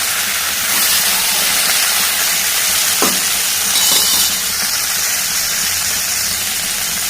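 Cluster beans frying in a pan with garlic and curry leaves give off a loud, steady, close sizzling hiss that holds throughout without pause.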